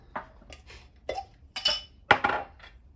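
A small glass jar, normally holding ginger, handled and set down on a hard surface: a few light clinks and knocks spaced across a few seconds, close and quiet.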